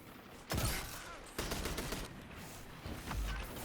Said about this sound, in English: Too many bullets shooting at them.